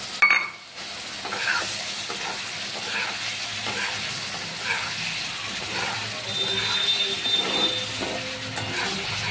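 Eggs fry in oil in a pan for an egg curry, a continuous close sizzle with soft stirring scrapes that starts after a brief clatter at the outset.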